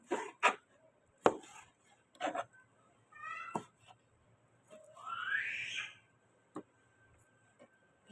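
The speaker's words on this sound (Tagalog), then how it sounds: "Hiwa-hiwa muna tayo ng karne para sa hapunan." A knife chops through pork face meat on a board with sparse, sharp thuds at irregular intervals, quiet and close, while a cat meows in between.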